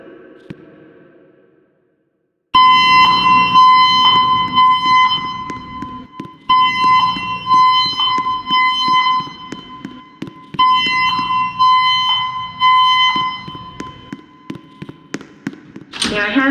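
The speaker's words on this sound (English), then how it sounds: "The fire alarm has been activated in the building." A new-system building fire alarm sounds in repeated loud bursts of a piercing electronic tone, cycling on and off with brief gaps between blasts, alone without talk.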